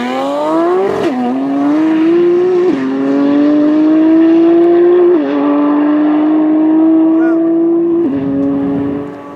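A drag race car making a solo pass at over 200 mph, its engine roaring loud and close with a sustained high-pitched whine that climbs through several sharp gear-change steps across the run.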